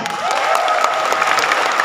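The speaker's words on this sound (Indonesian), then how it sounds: "Tepuk tangan." A crowd at a public city square event applauds together, a short, steady burst of many hands clapping at moderate loudness with some background voices.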